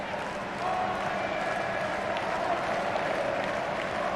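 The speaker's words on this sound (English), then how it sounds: "Just listen to that crowd." A packed football stadium crowd at an AFF 2020 final between Indonesia and Thailand roars and claps in a dense, continuous wall of noise that swells slightly after the opening half-second and holds steady throughout.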